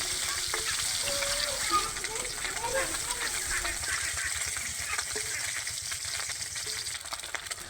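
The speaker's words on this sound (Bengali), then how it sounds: "ছেড়ে দিয়ে একটু মুচমুচে করে ভেজে নেওয়া হবে মাছগুলো" Small native puti fish crisp-frying in hot oil, giving a continuous soft sizzle with occasional stirring scrapes; fairly quiet overall, with faint background sounds.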